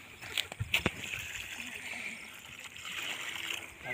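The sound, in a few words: water being poured onto trees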